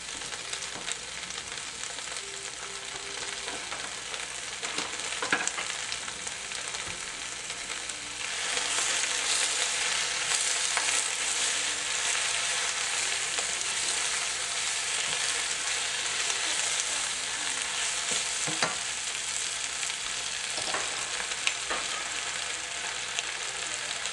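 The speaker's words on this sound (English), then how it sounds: "we put a whole bunch of spinach in the pan, and it might look like the pan's overflowing" A big pile of spinach frying in a pan with onions, giving a steady, close sizzle that runs the whole time and grows a little louder partway through, with occasional stirring scrapes and no talking.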